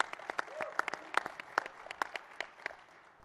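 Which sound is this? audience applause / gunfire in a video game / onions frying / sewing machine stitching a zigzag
audience applause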